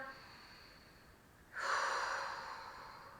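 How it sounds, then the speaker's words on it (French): A single audible inhale through the nose during a Pilates exercise, close and breathy, swelling after a quiet moment and then slowly fading, with no talking over it. "On inspire."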